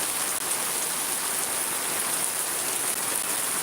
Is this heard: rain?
yes